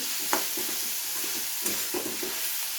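Onion fries with ginger and garlic in a pan, a close steady sizzle with a few quick spatula scrapes and taps over the hiss; no voices.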